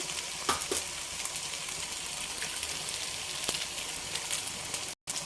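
Two eggs fry in a pan with noodles, giving a steady close-up sizzle with scattered crackles and a brief cut-out near the end. No one speaks.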